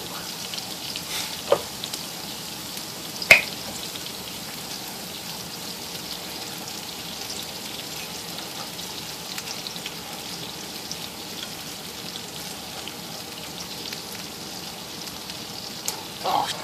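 Vegetables for Cajun chicken Alfredo fry in a pan with a steady, soft sizzle and a few faint clicks.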